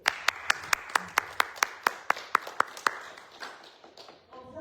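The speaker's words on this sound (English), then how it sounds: "Y'all deserve a round of applause." A single person claps about a dozen evenly spaced times close by after a Macbeth Q&A session, then the claps stop and faint room sound follows.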